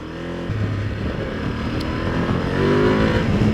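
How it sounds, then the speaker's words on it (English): A 2025 Ducati Multistrada V2 V-twin motorcycle engine pulls close and loud under acceleration, its deep throbbing pitch climbing steadily with no voices over it. "It sounds like a, you know, like a V-twin."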